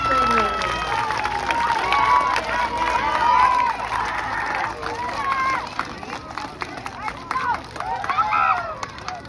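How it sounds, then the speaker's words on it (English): Audience at a school award celebration cheers and applauds for a team, a steady crowd roar with clapping and whoops lasting throughout, loud and fairly close, with voices mixed in. "Round of applause for our team."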